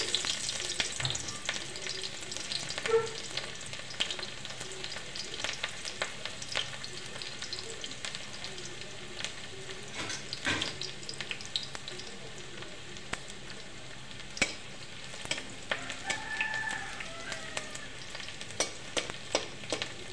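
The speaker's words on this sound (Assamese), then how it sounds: "তেলখিনি গৰম হ'ল এতিয়া মই অলপ পিঁয়াজ দি দিম" Chopped onions sizzling and frying in hot oil for a taro-leaf curry, a steady close crackle with scattered pops and spits running throughout, with no talking.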